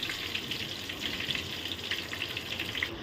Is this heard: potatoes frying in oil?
yes